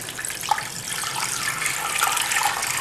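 Water runs steadily into a cooking pot, about 1.5 litres added to 1 kg of beef and marrow bones for stock, a continuous close splashing pour with no talk over it.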